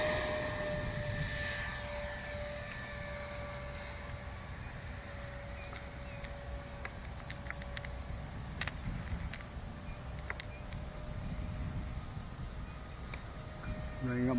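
A FreeWing ME 262 RC jet model in flight gives a steady, whining ducted-fan drone heard from a distance outdoors, holding level throughout under intermittent talk and wind noise.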